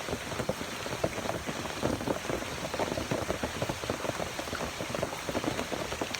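Heavy rain pours down in a forest, a dense, even patter of drops on leaves and ground that lasts the whole clip without pause. No voices are heard.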